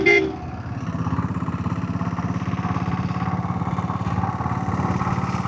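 Royal Enfield diesel Bullet motorcycle running, a steady rhythmic low-pitched engine thump pulsing evenly, close and fairly loud, with a brief louder burst at the start.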